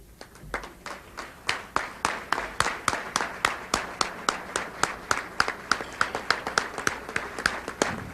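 A convention audience claps for its board, starting with a few scattered hand claps that quickly build into steady, rhythmic applause with crisp individual claps standing out, close and sustained to the end.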